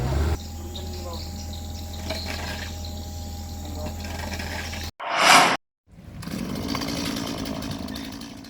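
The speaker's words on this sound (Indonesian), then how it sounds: "Menggunakan mesin gergaji pemotong kayu" A chainsaw runs steadily as firefighters cut a fallen jackfruit tree trunk, a sustained droning whine broken by a brief loud burst and a short gap before the cutting noise resumes.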